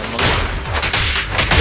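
Gunfire in the video game Zenless Zone Zero, a dense burst of repeated shots and booms crackling loudly across the whole moment, with no pause between blasts.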